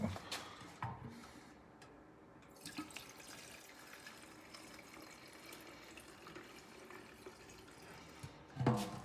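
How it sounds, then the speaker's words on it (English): Gasoline pours into the fuel tank of a Stihl 028 AV Wood Boss chainsaw, a soft, steady liquid trickle and gurgle close by, fairly quiet, with a few brief knocks and handling sounds at the start and end. "Pour some gas."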